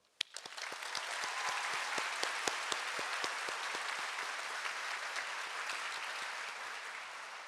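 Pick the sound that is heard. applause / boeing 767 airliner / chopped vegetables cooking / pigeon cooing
applause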